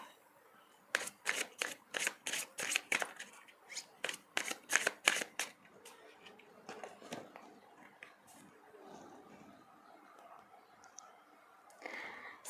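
Tarot cards being shuffled up close, a quick run of sharp riffling flutters followed by softer handling and a final riffle, quiet and without talk.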